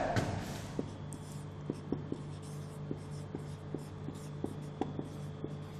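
Chalk or marker tapping and scratching on a board during a Class 10 biology lecture on digestion, a steady series of short strokes and taps, with no talk over them.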